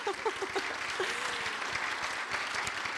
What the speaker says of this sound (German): Ja, einen Applaus bitte